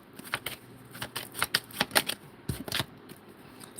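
Tarot cards being shuffled by hand, a close run of crisp flicking and riffling snaps in quick irregular bursts, with no talking.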